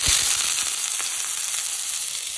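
Half the onions dropped into a hot pan for a Khulna-style onion flower stalk fry, sizzling and crackling steadily at close range, with a burst at the start.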